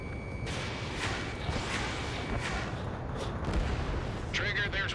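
Aerial combat in the Ace Combat 7 video game: a dense, continuous roar of jet and battle noise with repeated sharp gunfire bursts and missile blasts, and faint radio-style voices mixed underneath.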